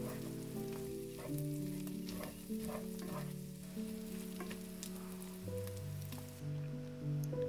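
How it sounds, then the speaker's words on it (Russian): Chopped onion and minced meat frying together in a pan while being stirred, giving a steady crackling sizzle with occasional scrapes, close up, with faint music underneath. "Теперь отправляю лук прямо к фаршу, аккуратно перемешиваю и обжариваю еще пару минут"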